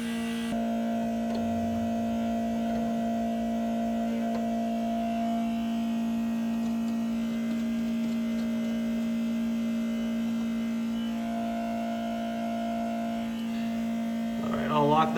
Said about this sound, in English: that turns on our pump, as you can hear in the background